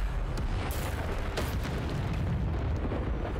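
A Bombarda spell detonates in the video game Hogwarts Legacy, a dense, sustained rumbling blast with crackling bursts that fills the whole stretch at steady loudness, with no talking over it.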